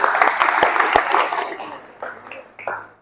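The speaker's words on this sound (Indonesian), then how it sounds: "beri tepuk tangan." A classroom group of automotive students claps briskly for about a second and a half, then the clapping fades into scattered claps and a few voices.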